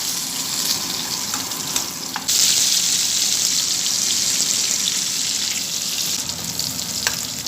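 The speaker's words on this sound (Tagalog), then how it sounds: "Ayan, lagay ko na yung bawang." Garlic drops into a pan already frying hotdog and prawns, and the close, loud sizzle swells suddenly and then holds steady, with a few faint utensil taps and no speech.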